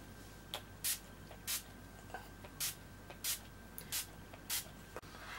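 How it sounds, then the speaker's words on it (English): Barry M Flawless Mist and Fix makeup setting spray in Dewy Finish misting in repeated short bursts, about eight quick pumps at a steady rhythm, close and fairly loud against a quiet room. "use Barry M's Flawless Mist and Fix makeup setting spray in a Dewy Finish"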